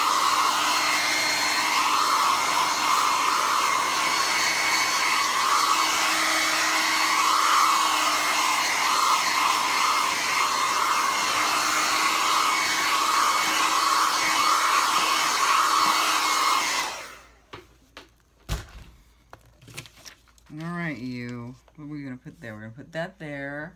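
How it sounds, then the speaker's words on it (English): A hair blow dryer drying paint on an art journal page runs loudly and steadily with a constant whooshing hum, then switches off, after which a person speaks. "A little pinch with my blow dryer."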